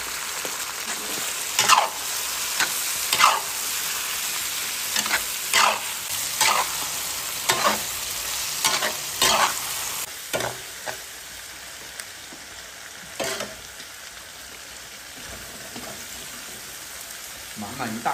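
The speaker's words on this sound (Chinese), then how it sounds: "肥肠下锅，" Pork intestines hitting hot oil in a wok with bean paste, ginger and garlic, giving a loud steady sizzle with repeated sharp scraping stirs of a spatula throughout, no talk.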